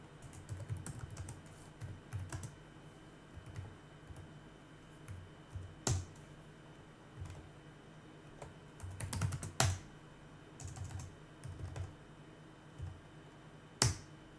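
Computer keyboard keys tapped while entering a sudo userdel command, irregular bursts of clacks with pauses and a few louder sharp keystrokes, close and fairly quiet with no talking.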